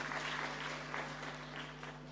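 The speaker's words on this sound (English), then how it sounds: "Can we have a big round of applause for Dr. Chandrasekhar?" An audience at a conference inaugural ceremony claps steadily, a quiet, even patter of many hands over a low electrical hum.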